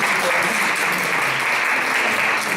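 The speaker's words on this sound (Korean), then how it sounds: "준우승한 우리 오성준 후보자께서 박수 한번" Loud, continuous audience applause filling a debate-battle event hall, steady clapping from many people without pause.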